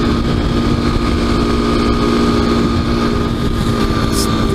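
Kawasaki KLX dual-sport motorcycle fitted with DOT knobby tires riding on a paved street, its engine droning steadily and loudly up close with constant wind rush and no break.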